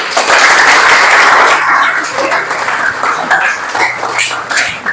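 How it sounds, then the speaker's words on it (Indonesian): A room full of people clapping, loudest at first and then tapering into scattered claps. "Kasih tepuk tangan."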